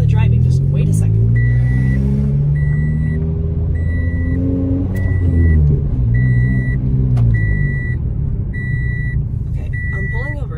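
A car drives along a road in Boston, its engine giving a steady low rumble throughout while a repeating high electronic beep chimes at regular intervals. People talk loudly inside the car over the engine noise.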